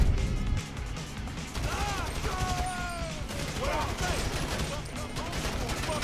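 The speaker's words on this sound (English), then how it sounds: "I was shooting him in the leg, but he wasn't dying" Rapid gunshots and crashing impacts in Grand Theft Auto V, a steady loud barrage of bursts under game sound effects, with talking mixed in.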